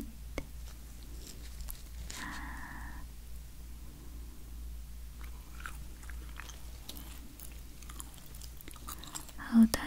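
Biting into a cute-shaped cookie coated in sugar, with a few close, soft crunching bites and chewing sounds in a quiet room, with no talking.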